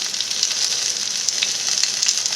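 Okra (bhindi) and onions fry in hot oil in a pan, giving a steady, loud, continuous sizzle with small crackling pops throughout, and no voices.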